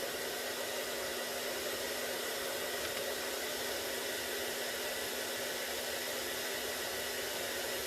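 Continuous roar of a hair dryer left on in an art studio, an even, unbroken rush of air with a faint steady hum underneath, close and loud with no voices.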